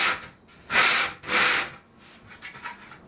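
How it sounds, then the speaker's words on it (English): A drum shell edge is rubbed flat on a sanding table, giving two loud, broad scraping strokes near the start followed by softer, fainter rubbing passes, close and with no talk. "Sanding it flat."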